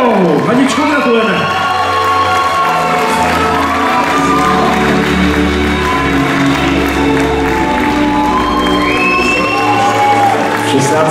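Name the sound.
audience applause and cheering at beauty pageant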